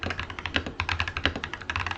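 Rapid, uneven typing on a hotswap mechanical keyboard from a first build: a close, steady clatter of sharp key clicks with no talking.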